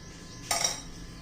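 A metal tadka pan clanks once on a stove, a short bright clink and scrape of metal against metal close by, then quiet background.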